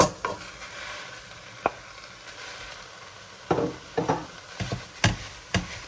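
Onions and carrots cook in a pan with a steady, low sizzle, broken by a few sharp utensil taps and scrapes against the pan, close by.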